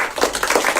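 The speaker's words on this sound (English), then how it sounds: "Push that clap button thing that you've got" Burst of clapping applause from a clap button effect, a dense patter of hand claps lasting under a second, fairly loud and alone.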